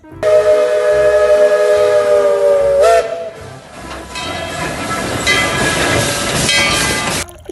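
A Thomas toy train gives off its electronic train sounds: a loud, sustained whistle-like tone at first, then a busier rattling, chugging stretch, fairly close and heard alone.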